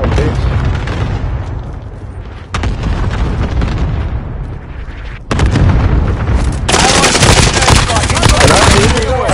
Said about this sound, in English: Allied cluster strike arriving.